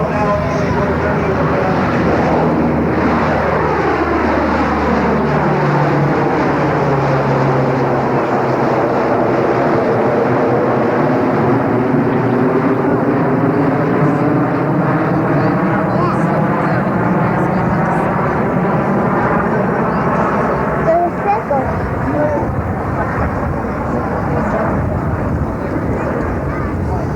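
An aerobatic propeller airplane at a 1994 Rhode Island Air National Guard air show flies low in a steep diving pass, its loud engine drone sweeping in pitch as it passes, with an announcer's voice over the public address.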